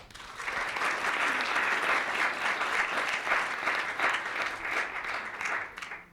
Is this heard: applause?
yes